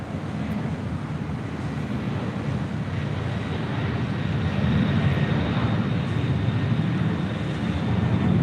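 Philippine Airlines Boeing 777-300ER, flight 113 to Manila, pushing back from the gate at LAX: a steady low engine rumble and roar that holds throughout and swells slightly toward the end, with some wind noise and no talking.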